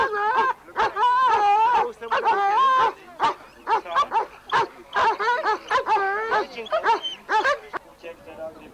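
A German boxer dog in protection training gives repeated sharp barks and high yelps in quick bursts, loud and close, with brief pauses between volleys.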